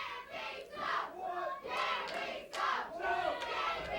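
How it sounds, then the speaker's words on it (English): Wrestling fans in a Memphis arena cheer and shout in rising and falling waves, a crowd roar heard at a moderate distance with no clear talk over it. "fans cheering for Tattoo and Johnny Dotson."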